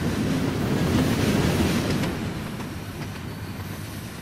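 Steam locomotive C&O 2765 hauling a two-mile freight train on the CSX Toledo Sub, heard as a loud, steady, broadband rumble and roar of passing rail cars that eases slightly partway through, with faint rhythmic wheel clatter underneath.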